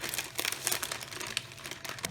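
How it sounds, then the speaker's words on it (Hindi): A polythene sheet crinkles as it is slowly peeled off a freshly pressed homemade aloo papad, steady close-up rustling and crackling with a few sharper crinkles, no voices. "पापड़ बनाकर आप पॉलीथीन को बहुत आराम से निकालें"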